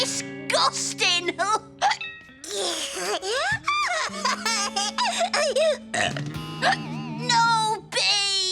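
A cartoon character's repeated hiccups and burp-like gulps mixed with giggles, a child's laughter and animated voices, coming in quick bursts amid busy comedic dialogue and sound effects.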